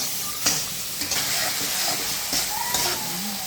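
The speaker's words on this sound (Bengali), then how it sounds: "মশলাটা একটু কষিয়ে নেব" Spice masala with green chillies, salt, turmeric, chilli and coriander is sautéed in a pan, giving a loud, close, steady sizzle broken by a few scraping stirs.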